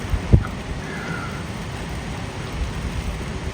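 Steady outdoor rain driven by wind, a dense even hiss and rush with a couple of brief low thumps near the start.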